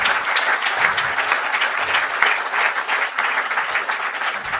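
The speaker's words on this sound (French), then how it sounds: "je crois qu'on peut applaudir Yvon et le remercier." An audience at a conference-debate applauds a speaker, a loud, dense and continuous clapping that holds steady for several seconds with no talk over it.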